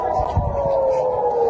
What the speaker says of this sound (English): we've been hearing air raid sirens and explosions across Israeli cities